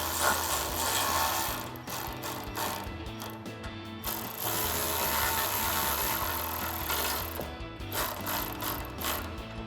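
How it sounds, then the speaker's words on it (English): A ratchet socket and wrench snugging down the bolt nuts on truck step bar brackets, a close, steady run of rapid mechanical clicking that pauses briefly a few times and then resumes. "we're going to snug these bolt nuts up with a 16mm socket and a 17mm wrench"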